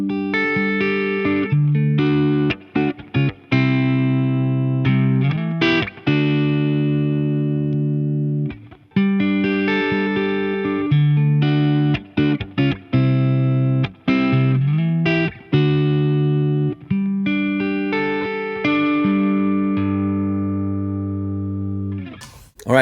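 Electric guitar played through a Friedman IR-D Dirty Shirley tube preamp, giving a biting, lightly driven tone: sustained chords and single notes with brief gaps between phrases, loud and alone with no talk.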